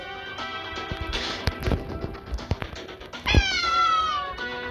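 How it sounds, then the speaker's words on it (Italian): A cat meows in the video game Ice Scream 2, a drawn-out, rising-and-falling meow near the end over game ambience, with thumps and footsteps before it. "Vieni, eccolo qua il gattino."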